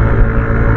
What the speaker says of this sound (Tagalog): Yamaha Aerox 155S acceleration test in 3, 2, 1, go.